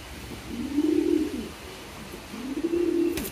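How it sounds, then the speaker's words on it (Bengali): Pigeons being released on a farm give two soft, low coos close by, one after the other with a short gap between them. "সো দেখতে পাচ্ছেন আমাদের কবুতরগুলা অনেক বেশি সুন্দর লাগে"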